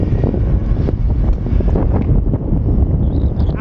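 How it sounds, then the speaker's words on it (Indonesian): Strong wind roaring across a Formula 1 circuit during a group bicycle ride, a loud continuous low rumble battering the microphone with no break. "Anginnya kencang sekali."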